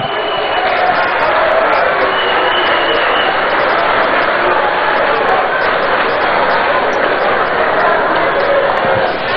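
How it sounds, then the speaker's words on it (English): Sustained applause fills a great hall at a meeting between Ghana's president and organised labour representatives, a dense, steady roar of many hands that holds at a constant loud level throughout. "Another round of applause for Chairman Arthur."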